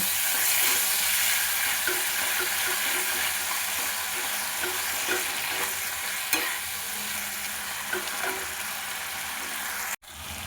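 Spice paste of ground cumin mixed with a little water frying in a pan, a dense continuous sizzle with occasional stirring knocks, loud and close, cutting off abruptly near the end.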